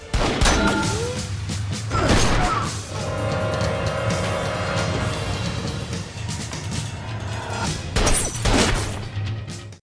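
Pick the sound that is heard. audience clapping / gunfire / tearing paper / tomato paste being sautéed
gunfire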